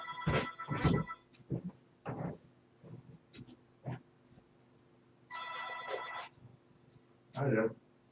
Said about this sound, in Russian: опять звонит